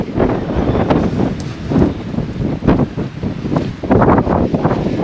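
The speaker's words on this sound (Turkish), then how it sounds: "Aşırı rüzgar var." Strong wind gusts buffet the microphone in loud, uneven surges, roaring continuously with brief dips between blasts.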